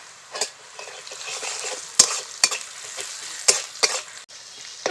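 Onions fry in mustard oil with whole garam masala for a chicken curry, a soft sizzle broken by about five sharp scraping stirs and clinks of a spatula against the pan, close with no talk.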